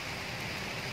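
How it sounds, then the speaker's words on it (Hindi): A steady, dense hiss of heavy rain falls during a downpour in Hajipur in the hot month of Baisakh. The rain sounds even and continuous, with no voices. "लगातार पानी बरस रहा है, बारिश हो रही है"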